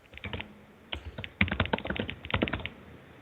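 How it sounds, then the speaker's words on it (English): Fingers type on a computer keyboard while someone codes, producing a dense, close run of quick clicking keystrokes that grows busier and louder partway through, with no talk over it. "So while you're typing that"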